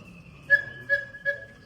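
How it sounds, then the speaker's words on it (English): Three short, breathy whistle toots from one bellows of a cuckoo clock, on a single steady pitch, evenly spaced and fairly soft against a quiet background. "So one part of the bellow would sound like this"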